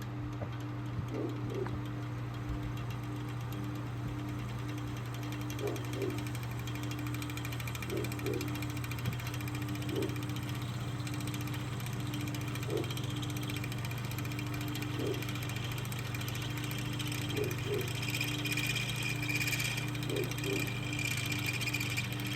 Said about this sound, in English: take a look at the big Franken fan, see how that does for the airflow test